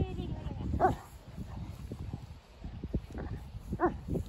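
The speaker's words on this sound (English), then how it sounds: "He's barking with a ball in his mouth" A Newfoundland dog gives two muffled barks with a ball in its mouth, with soft shuffling and a voice murmuring in between.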